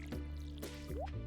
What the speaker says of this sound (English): Let's go ahead and water our crops.